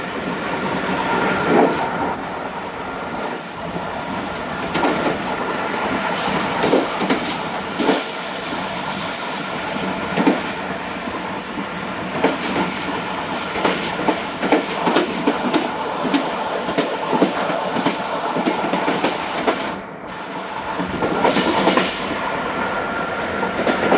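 The Tezgam Express runs on the tracks and gathers speed, its steady rumble and clickety-clack of wheels over rail joints loud and continuous from inside the train, with a brief dip near the end.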